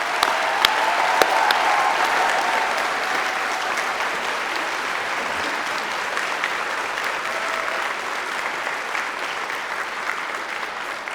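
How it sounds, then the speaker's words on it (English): Sustained applause from a graduation ceremony audience at the University of Northampton, a dense, even wash of many hands clapping close by, steady for the whole stretch with no talking over it. "let's give everyone who has successfully completed their award and their tutors and professional colleagues a huge round of applause"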